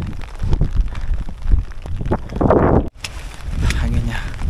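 Strong storm wind gusts roar against the microphone on a mountain trail during a night hike in heavy rain on Mount Buthak, a loud, continuous buffeting rush that swells and drops, with a brief cut near the middle.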